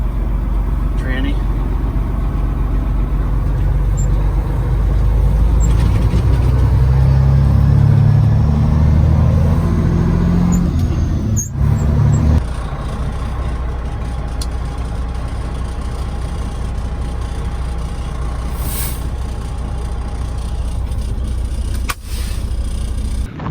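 A 1995 Freightliner FLD 120 truck with an 11.1 Detroit engine and 9-speed transmission idles with a loud low rumble that swells briefly then settles to a steady drone, with someone talking over it.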